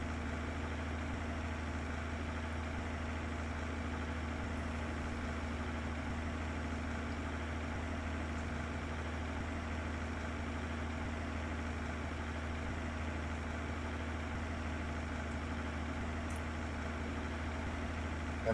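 A big tractor in Farming Simulator 22 idles, its engine a steady, low, droning hum that stays even and unbroken for the whole stretch.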